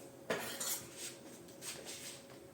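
A knife prods and scrapes against braised Catalan pork cheeks in ratafia inside a metal pot, giving a few close, light clinks and taps with a soft simmering hiss under them.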